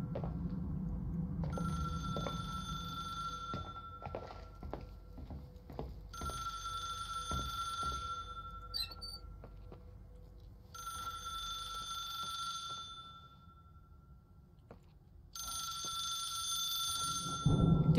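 Old-style telephone in the video game The Suicide of Rachel Foster rings in repeated long bursts of bright electric bell tone separated by pauses, loud and steady, with faint knocking or footstep sounds between rings.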